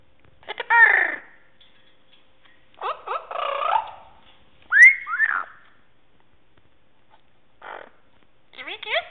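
An amazon parrot whistling in four separate bursts of bright, sliding, warbling whistles and chirps, close and clear against near silence with pauses between calls.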